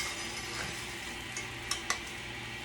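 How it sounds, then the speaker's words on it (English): Rice for Mexican white rice being sautéed in a pan gives a steady, moderate sizzle, with a couple of sharp clicks from a utensil scraping and stirring against the pan. "So basically, I'm just sauteing"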